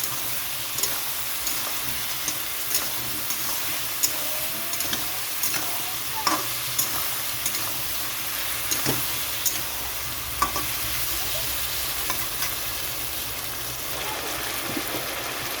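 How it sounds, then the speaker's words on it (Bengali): Cumin paste frying with salt and turmeric in a pan for a hilsa fish curry with taro, stirred steadily, giving a continuous close sizzle broken by frequent scraping stir strokes, with no talking. "এখানে দিয়ে দিচ্ছি জিরে বাটা। এখন এটা ভালো করে কষিয়ে নেব।"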